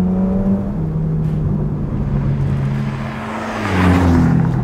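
Ferrari Portofino M with twin-turbo V8 and eight-speed dual-clutch gearbox, engine drone rising in pitch through the gears, dipping briefly before swelling louder again near the end, heard steadily without any voices.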